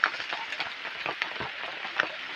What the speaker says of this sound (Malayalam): നോക്കുമ്പോഴത്തേക്ക് നല്ല മഴ, നല്ല തണുപ്പും ഉണ്ട്, നല്ല മഴയും ഉണ്ട്